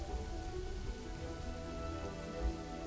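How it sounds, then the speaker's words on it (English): Steady rain pours down in the city-building game Kingdoms and Castles, a dense continuous patter with no talk over it. "this is really not a good time for rain to ruin half our farms"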